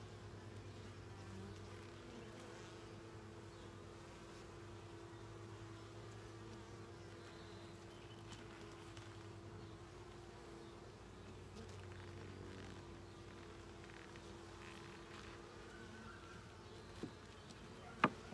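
Honeybees buzzing steadily around an open beehive during a first hive inspection, a close, continuous low drone with a few faint knocks near the end.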